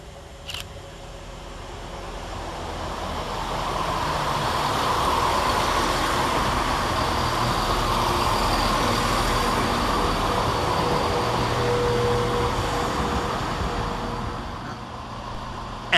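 ScotRail class 170 unit 170425 on the Arbroath to Edinburgh Waverley service passing Edinburgh Gateway station, a broad rumbling roar that swells to a sustained loud peak and fades, with no talking.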